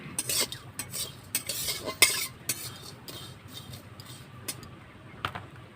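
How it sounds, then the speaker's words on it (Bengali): Mutton is worked by hand with salt and mustard oil in a bowl, producing close, irregular wet squelching and clicking sounds in short bursts with brief pauses, no talk. "সরষার তেল এগুলো দিয়ে ভালো করে মাখিয়ে নেব"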